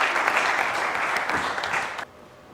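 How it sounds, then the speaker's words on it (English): Audience applause at a secondary school quiz challenge, a steady dense wash of clapping that holds for about two seconds and then cuts off abruptly. "Let's give a huge round of applause to Anthony."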